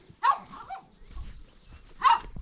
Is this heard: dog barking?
yes